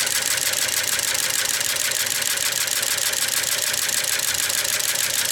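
A 1908 Matheson car engine with make-and-break ignition runs steadily at around 700 RPM, giving a fast, even mechanical chatter and knock that sounds close and constant, with no voices.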